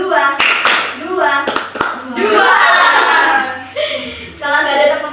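A group of children at a mental and emotional health outreach session clap in short patterned bursts on cue, sharp claps between stretches of a leader's speech and the kids' voices.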